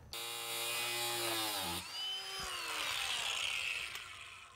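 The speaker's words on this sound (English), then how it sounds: "Having a good angle grinder with a cutoff wheel works pretty good." An angle grinder with a cutoff wheel cuts through a Ford Escape tie rod, a loud close high-pitched whine that drops in pitch under load, then spins back up and winds down.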